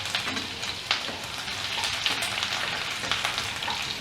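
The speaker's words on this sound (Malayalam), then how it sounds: "ജീരകം മൂത്ത് ഇതിലേക്ക് ഞാൻ ആദ്യം വെളുത്തുള്ളി ഇടുന്നു, അതിനുശേഷം പച്ചമുളക് ഇടുന്നു, അതിനുശേഷം ഇഞ്ചി ഇടുന്നു" Cumin, garlic, green chili and ginger fry in hot oil for a bhindi aloo masala, giving a steady, close crackling sizzle with a few sharper pops and no voices.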